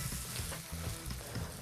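Ingredients sizzle and fry in a hot pan while Ethiopian injera dishes are cooked, a steady crackling hiss with no voices, close and fairly quiet.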